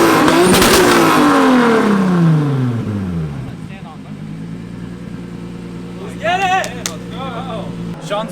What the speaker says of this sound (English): Best revving RPM ever.